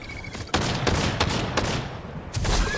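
Bursts of rapid gunfire from a shooter video game, loud and dense, with several rattling volleys and a short pause before a final burst, no one talking.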